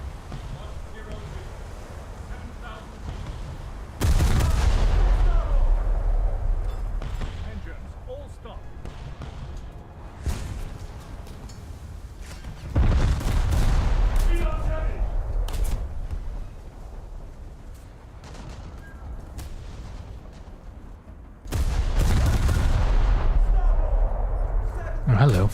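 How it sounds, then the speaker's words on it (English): Heavy battleship main guns boom in a naval video game, three big salvos spaced several seconds apart, each followed by rumbling decay, while someone talks throughout. "did my guns just fire out of alignment completely?"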